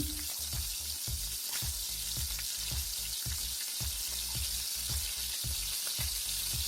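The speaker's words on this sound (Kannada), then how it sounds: "ಇದು ಬ್ರೌನ್ ಕಲರ್ ಬರೋವರೆಗೂ ಚೆನ್ನಾಗಿ ಫ್ರೈ ಮಾಡ್ಕೊಳ್ಳಿ." Chopped onions sizzle steadily in hot oil for a mushroom gravy, a continuous close frying hiss broken by regular soft stirring scrapes roughly every half second, with no talking.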